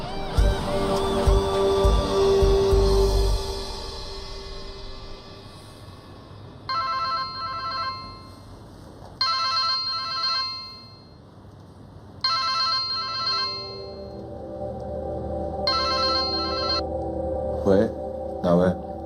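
A telephone rings on the other end of a call, repeated electronic ring bursts with pauses between them, heard after an opening stretch of noise.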